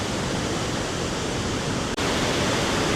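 River water pours over an uncontrolled weir wall, a loud, dense, unbroken roar of falling water close by, with one split-second dropout.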